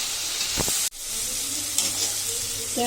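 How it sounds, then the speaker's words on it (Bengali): A fish head frying in a pan gives a continuous bright sizzle close up, broken by a few scraping stirs and a brief cut in the sound. "মাছের মাথাটা কষানো থাক"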